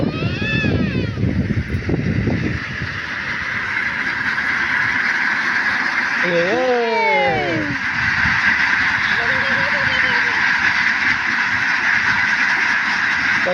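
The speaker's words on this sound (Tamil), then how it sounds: "வாத்து வந்துட்டு" Ducks on a farm with coconut trees give a few short, nasal quacks and honks in brief bursts, close by, over steady background noise and voices.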